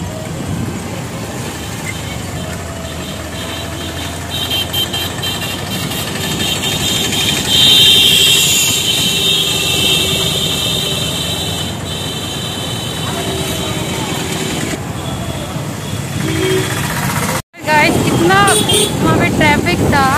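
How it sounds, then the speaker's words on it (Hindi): Dense road traffic with cars and motorcycles, a continuous engine rumble with passing vehicles and horn-like tones rising and fading, heard close and loud while a person talks throughout. "देखो यार कितना ट्रैफिक है यहाँ।"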